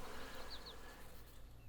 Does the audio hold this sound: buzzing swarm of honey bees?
yes